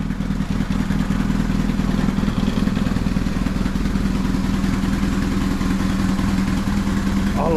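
A homebuilt adventure motorcycle engine catches and settles into a steady, even idle, a low rumble with light mechanical clatter, heard up close throughout.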